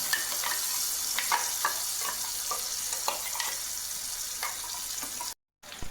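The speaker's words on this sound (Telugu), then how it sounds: "మనం ముందుగా ప్రిపేర్ చేసుకున్నటువంటి ఈ మసాలాని ఆయిల్లోకి వేసేసుకుందాం" Prepared masala fries in hot oil for a fish curry, a steady crackling sizzle broken by short spoon scrapes and taps, ending in a brief dropout.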